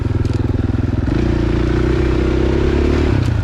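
A dirt bike engine on a high alpine trail ride in fall, loud and close, a lumpy idle-like throb that rises to a steadier, higher drone partway through.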